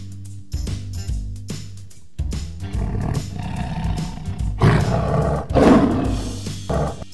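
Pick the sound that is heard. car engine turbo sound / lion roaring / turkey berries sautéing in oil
lion roaring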